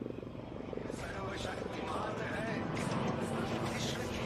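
HAL Prachand light combat helicopter performing a flying display at the Aero India air show in Bengaluru, its rotor and engine roar loud, continuous and slowly building.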